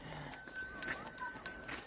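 Irregular clanks of bells ringing on grazing buffaloes, each struck a few times in close succession against a quiet outdoor background in Maharashtra.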